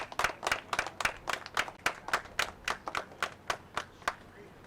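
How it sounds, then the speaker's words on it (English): Spectators applauding at an amateur league soccer match, a quick, evenly paced series of distinct claps that sounds close and fairly sparse, as if from a few nearby people, with faint talk underneath. "The crowd applauds."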